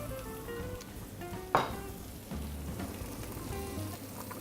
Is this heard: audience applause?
no